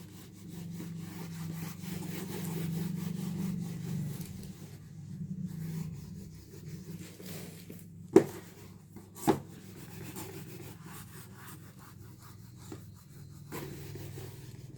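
A duster rubs writing off a board during a geometry lesson, a dry, steady scraping for about five seconds, then quieter, followed by a couple of sharp knocks and softer scuffs.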